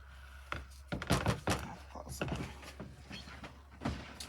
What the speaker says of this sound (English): Closing the door, y'all.